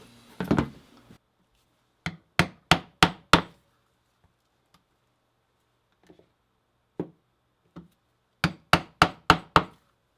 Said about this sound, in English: then I'm going to punch the holes